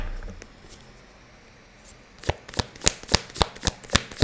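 Tarot cards being shuffled by hand, a quiet stretch giving way to a run of sharp, regular riffling snaps, close and fairly loud, with no talking.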